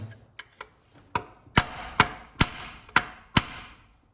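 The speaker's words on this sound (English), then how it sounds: "I got like a crooked kind of screwdriver and I'm hitting it with a hammer." A series of sharp metallic taps, about ten strikes, starting light and growing louder and more regular, a hammer striking a crooked screwdriver while freeing a bolt on a VW Mk1 water pump housing.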